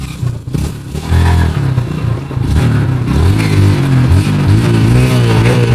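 A motorcycle engine revs loudly and steadily close by, its pitch rising and falling through several throttle swells, heard on a rural property where a mango tree is being felled.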